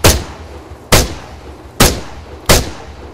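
Four loud, evenly spaced gunshots ring out in Arma 3, each a sharp close blast with a rolling echo tail, about one shot per second.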